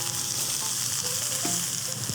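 Marinated chicken kebab sizzles steadily in a hot pan, a dense, constant frying hiss with faint crackles, close and loud with no talking.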